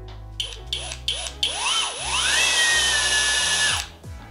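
A HOTO cordless brushless drill at low speed gives several short rising bursts, then revs up into a sustained whine that winds down at the end, close and clear.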